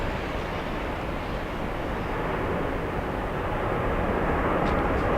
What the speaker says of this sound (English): we have Delta's 2655 flying in from Minneapolis.